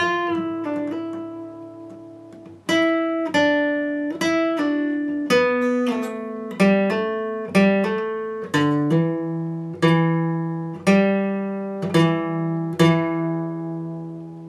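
Slow electric guitar notes of a solo picked one at a time, each ringing out and decaying, forming a measured melodic line with clear gaps between plucks.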